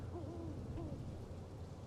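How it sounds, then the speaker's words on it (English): An owl in the video game Life is Strange Double Exposure gives a couple of soft, low hoots, faint and distant over a quiet ambient background. "I hear an owl."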